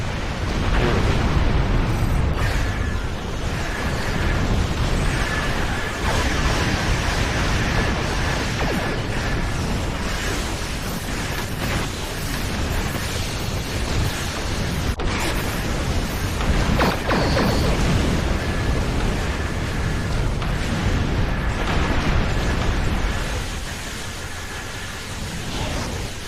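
Explosions in the Star Trek Online space combat game roar as continuous dense booming and crackling bursts, loud and sustained for most of the stretch before easing off at the end.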